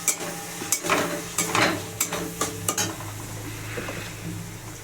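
Chicken pieces fry in a pan with garlic and turmeric, a soft sizzle under a run of clinking metal spoon strikes and scrapes against the pan, close by and without talk.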